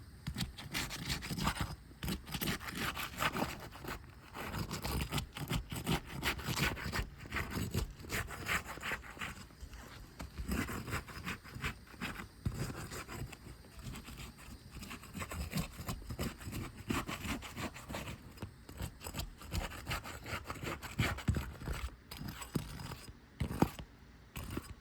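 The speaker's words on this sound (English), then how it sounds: "I'm gonna start off by breaking all the seals." A roof snake tool pries and breaks the sealed tabs of asphalt roof shingles, producing continuous gritty scraping and rasping strokes in a fast, uneven rhythm, close by and fairly quiet throughout.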